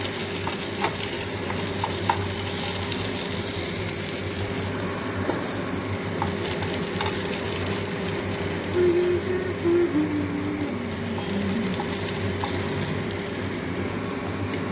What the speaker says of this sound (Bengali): তো এদিকে আমার মাছ ভাজা অলরেডি হয়ে গেছে